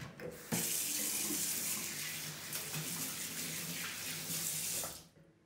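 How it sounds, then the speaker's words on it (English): Tap water pours steadily into a sink during handwashing before cooking, a continuous broadband rush lasting about five seconds and then cutting off, with no talking. "we'll start by washing our hands"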